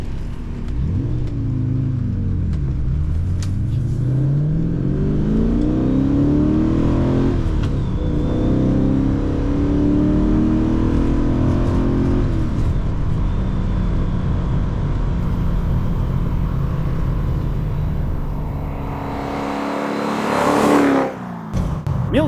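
A 1979 Aston Martin Oscar India V8 accelerating hard through long gears, its engine note rising and falling across several extended pulls with a brief lift near the end before revving again, loud and close.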